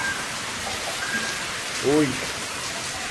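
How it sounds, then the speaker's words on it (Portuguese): Rain falls with strong wind in the backcountry sertão of Janduí, Rio Grande do Norte, a steady hiss of drops, while someone briefly speaks over it. "Chuva com bastante vento."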